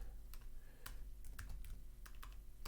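Close, quiet clicks of a computer keyboard as code is typed, a quick irregular patter of keystrokes with short pauses, alone with no voices.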